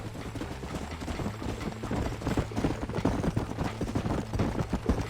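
Horses ridden in the Western video game Red Dead Redemption, with steady rhythmic hoofbeats clip-clopping at a gallop over a low ambient drone, moderately loud and close, continuous through the clip, with no talking.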